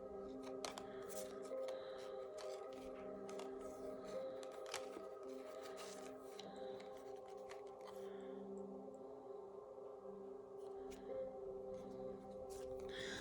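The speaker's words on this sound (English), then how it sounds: "Okay, these are wonderful cards. Okay. Hold on. Let me put them in order so the message runs very clear." Tarot cards handled and laid out in order, giving soft rustling flicks and light taps at an uneven pace over a steady low background hum.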